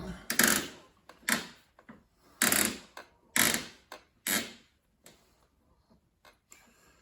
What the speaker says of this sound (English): Applying a lot of pressure at the back of it, the screwdriver, while I'm turning.